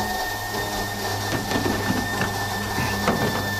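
Pneumatic riveting during a Cessna 172B STOL kit installation, a close, continuous buzzing rattle with a steady hum, the rivet gun's hammering rising in brief bursts.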